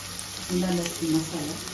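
Tomatoes fry in a pan with a continuous close hiss, and a low voice hums briefly underneath.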